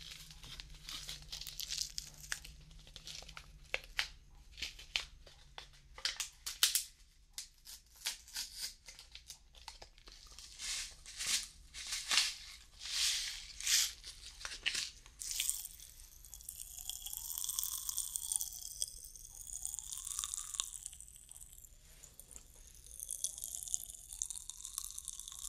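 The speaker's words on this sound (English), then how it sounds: "We got some blue Raz Pop Rocks." A packet of blue raspberry Pop Rocks candy is crinkled open, then the candy crackles and fizzes in a dense run of tiny close pops and snaps, heard quietly with no talking.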